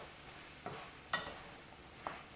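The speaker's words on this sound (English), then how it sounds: "So at this time I want to add all the sweet pepper, and you want to stir everything together" Sweet pepper and snail are stirred together in a pan, heard as three quiet separate scrapes or clinks over a soft low background sizzle.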